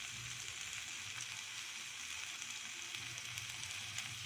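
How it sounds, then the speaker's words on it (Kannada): Chopped onions hiss loudly in a hot pan while cooking shahi paneer dhaba style, a steady, dense, unbroken sizzle with no voices. "ಕಟ್ ಮಾಡಿರೋಂಥ ಆನಿಯನ್ ಫುಲ್ ಹಾಕ್ಕೊತಾ ಇದ್ದೀನಿ."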